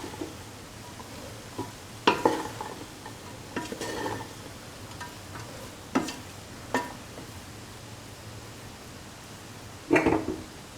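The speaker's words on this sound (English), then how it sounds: "Add in the rice little by little, mix until" A spoon stirs rice into a chickpea and carrot mixture in a pan, giving a few separate scraping, clattering strokes against a quiet sizzle. The strokes are spaced apart and fairly close.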